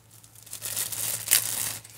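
Plastic wrapping on a canvas zipper pouch bag being torn and crinkled open, a close, steady rustle lasting a couple of seconds with a sharper rip near the end.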